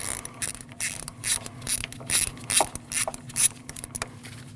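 A 10mm socket ratchet loosens a bolt on a 2014-2023 Jeep Cherokee 2.4L four-cylinder, sounding as a series of close, crisp ratcheting clicks in irregular bursts of several strokes.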